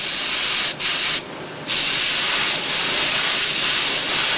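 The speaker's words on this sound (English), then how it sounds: "Now you can hear the heat cranking away here" A heater cranking away in a spray-painting area, a loud steady broadband hiss rushing like steam, briefly dropping out twice early on before resuming and holding constant.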